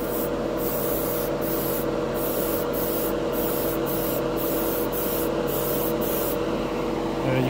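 Duralumen chrome paint sprayed through an airbrush at 15 PSI onto a spoon, a steady close hiss running throughout with brief bursts layered over it.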